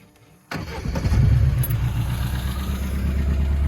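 A VAZ 2106 car engine with a straight-through exhaust cranks and catches with a sudden burst, then settles into a steady, deep idle rumble close by.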